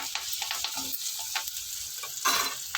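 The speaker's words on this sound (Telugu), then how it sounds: "మంచిగా వేసినాక మనం బెండకాయ ముక్కలు వేసేసుకున్నాం." Okra pieces fry in a hot pan with curry leaves, giving a steady close sizzle across the whole stretch, broken by a few scraping stirs and a louder burst of frying near the end. Nobody speaks.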